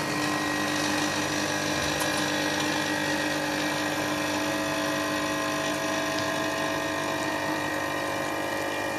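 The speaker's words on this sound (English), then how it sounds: "we start here with the espresso with the small vibration pump" A small vibration pump in a Quick Mill espresso machine hums in a steady, loud, continuous drone while brewing espresso, unbroken from start to finish.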